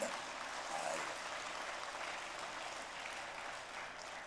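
A church congregation in Suwon applauds during a Sunday service, producing a soft, even, sustained patter of many hands that stays steady and fairly distant throughout.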